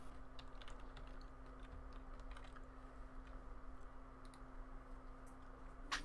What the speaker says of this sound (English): Let the typing commence.